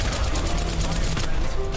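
Gunfire in an Apex Legends Arena match, season 13: a steady rattle of closely spaced automatic shots, loud and continuous throughout.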